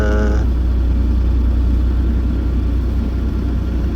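A Bobcat E42 compact excavator's engine runs with a steady, loud low rumble as the machine swings around, close by, with a brief higher whine at the very start and no talk.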